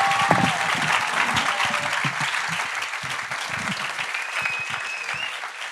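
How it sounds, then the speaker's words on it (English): Audience at a Saturday morning live session clapping to thank the guests, a sustained crowd applause with some individual claps standing out, a faint whistle or tone passing over it, and a slight thinning toward the end. "Let's give them a really big round of applause"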